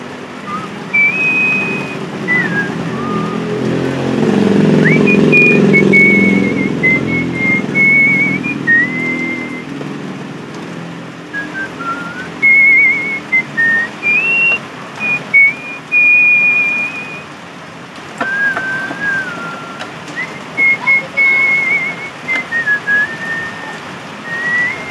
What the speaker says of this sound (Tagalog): pasipol-sipol muna tayo mga bro